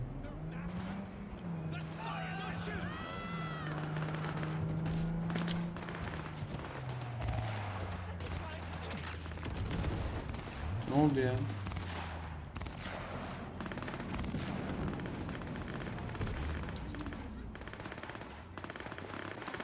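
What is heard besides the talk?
gunfire and machine guns in video game Cyberpunk 2077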